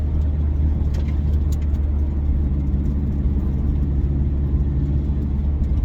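A turbocharged Scion FR-S with a TRD muffler accelerates as its turbo spools, giving a loud, steady engine drone close by with no voices.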